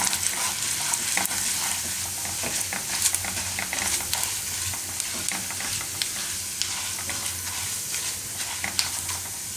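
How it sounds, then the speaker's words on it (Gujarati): Mustard seeds with chana dal and urad dal frying in hot oil, a continuous close sizzle dotted with sharp crackles and pops, occasional stirring scrapes, and no talk. "એમાં પહેલાં રાઈ નાખીશું અને દાળ, ચણાની દાળ અને અડદની દાળ."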